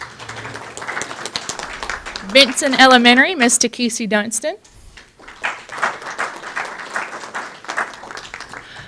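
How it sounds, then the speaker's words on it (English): Scattered audience applause at an elementary and middle school recognition event, rising beneath an announcer reading school and principal names and continuing as a broadband wash under his voice. "feel free to give them a round of applause as they go"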